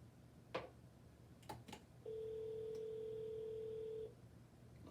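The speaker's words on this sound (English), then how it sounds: "All right, it's ringing. It's ringing." Outgoing telephone call ringback tone, a single steady two-second electronic ring, clear and moderately loud, preceded by a few faint clicks and taps in a quiet room.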